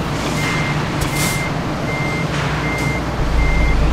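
A truck in Euro Truck Simulator 2 sounds its reversing alarm, a loud regular beep repeating about every half second over a constant low engine rumble that swells slightly at the end.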